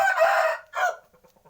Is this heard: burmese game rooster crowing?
yes